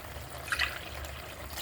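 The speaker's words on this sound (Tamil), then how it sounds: "இப்போ நம்ம தண்ணி விட்டுக்கலாம்" Water trickles and splashes briefly into a pressure cooker holding prawn biryani, a short, faint pour heard close by.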